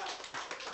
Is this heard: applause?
yes